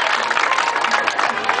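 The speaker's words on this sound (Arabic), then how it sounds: "فأشتي تصفيقة مرة ثانية." Applause and cheering from a crowd gathered at a youth protest rally in a public square, a dense steady patter of clapping mixed with voices, continuous and fairly loud throughout.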